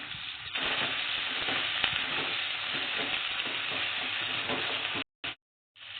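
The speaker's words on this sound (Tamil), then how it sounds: "கட் பண்ண பூண்டு சேர்த்துக்கிறோம், கருவேப்பிலை சேர்த்துக்கிறோம், பச்சை மிளகாய் சேர்த்துக்கிறோம். எல்லாம் ஒன்றா போட்டு வதக்கிக்கிறோம் நல்லா" Garlic, curry leaves and green chillies sautéing in a pan for chow chow and radish sambar, a dense steady sizzle with rhythmic stirring scrapes close by, cutting out briefly near the end.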